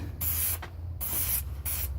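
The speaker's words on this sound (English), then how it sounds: "Let me go ahead and spray it a little bit there." A 2003 Cadillac CTS quarter panel gets short, close bursts of sprayed coating over bare body metal, three hissing passes with brief pauses between them.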